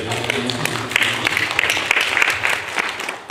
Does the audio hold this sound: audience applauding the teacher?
yes